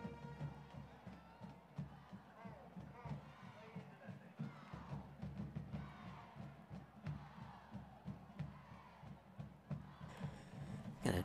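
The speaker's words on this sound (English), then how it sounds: "Nice crowd here tonight for a Thursday night game into it." A lively crowd at a Thursday night high school football game between Conroe and Grand Oaks roars and cheers steadily throughout, a dense wash of voices with a home band playing, swelling louder near the end.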